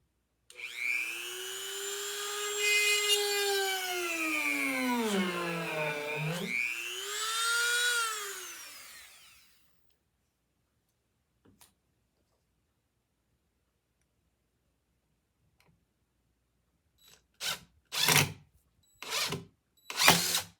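A power drill boring into wood whines loudly for several seconds, its pitch dipping and rising as it bites, then quiet followed by a few short bursts of drilling.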